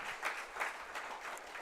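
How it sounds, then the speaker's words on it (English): A round of applause from an audience at a municipal gathering, steady dense clapping with no voices, sustained evenly from start to finish. "Can we give a round of applause for Doc?"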